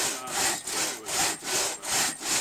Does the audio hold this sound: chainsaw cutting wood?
yes